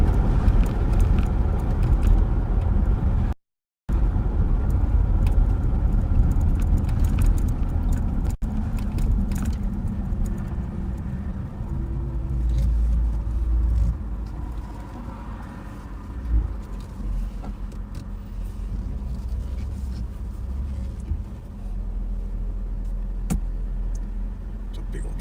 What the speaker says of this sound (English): It's a big old truck. It's a nice truck.